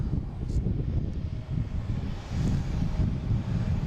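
An airliner departing Boston Logan International Airport on a flight to Rome, a low continuous engine roar heard at a distance with steady rumble and no talking.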